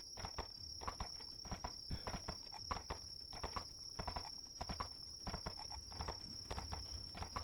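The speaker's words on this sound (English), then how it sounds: "You hear the sounds of galloping hooves from in front of you." Rapid, rhythmic hoofbeats of a galloping horse pound steadily throughout, with a constant high insect-like whine ringing in the background.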